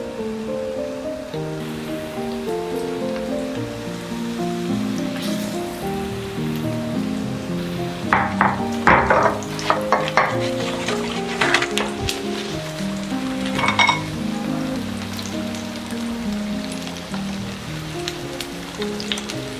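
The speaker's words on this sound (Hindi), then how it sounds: "ये आलू वाले पकोड़े अब जो हमने बेसन तैयार करके रखा था, एक एक आलू डिप करके हल्की आंच पे" Potato pakoras coated in gram flour batter fry in oil over a low flame, giving a steady rain-like sizzle beneath background music, with a brief burst of louder crackling midway.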